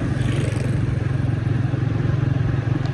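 A motorcycle rides along at steady speed on the way to a market, its engine putting out a close, even, pulsing drone throughout with no talk.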